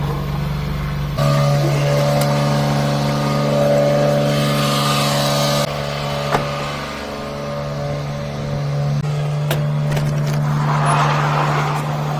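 Mini truck engine idling while warming up, a steady low hum with small shifts in pitch and level, close by, with a few clunks and a brief hiss.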